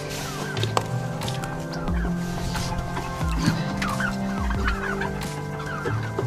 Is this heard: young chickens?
yes